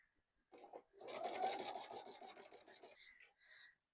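A sewing machine runs with a walking foot while stitching quilting lines on a seatbelt cover: a couple of brief starts, then a steady, rapid mechanical stitching chatter for about two seconds that stops abruptly, up close.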